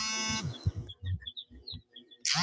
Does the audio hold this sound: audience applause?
no